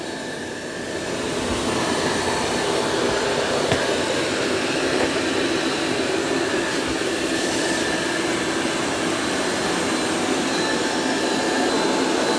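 A eufy X10 Pro Omni robot vacuum cleaner runs as one even, close whirring drone for the whole stretch, steady and unbroken with no talking over it.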